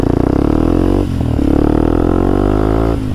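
A motorcycle engine runs close and loud for about three seconds, its pitch climbing steadily with a brief dip and recovery as the throttle is blipped, and no talk is heard.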